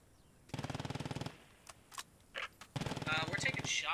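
Automatic rifle fire in a tactical shooter video game, two long rapid bursts of machine-gun fire with scattered single shots between them, loud and close, with voices talking alongside.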